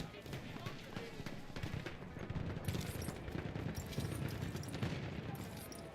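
Machine gun fire and chaotic battle noise in Battlefield 1 multiplayer, a dense continuous rattle of shots with explosions and running under a player's voice.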